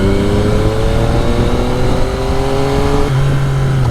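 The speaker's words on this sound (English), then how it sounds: "how much of the exhaust you guys can hear, but I love it" Motorcycle exhaust drones steadily and loudly as the bike rides off, holding a smooth engine note that shifts pitch near the end as the rider changes speed.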